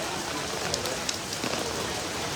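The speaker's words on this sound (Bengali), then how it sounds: "বৃষ্টি পড়তেছে।" Steady rain falling at an outdoor cattle market, a dense even hiss of drops on surfaces with a few faint taps and thuds in the background, continuous and moderately loud.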